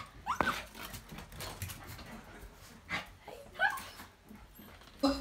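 Dogs at home give several short, high whimpers and yips in separate bursts, fairly close and moderately loud against a quiet room.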